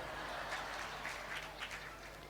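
An audience at a parents' honouring ceremony in Katni claps steadily throughout, a dense, continuous patter heard from within the hall.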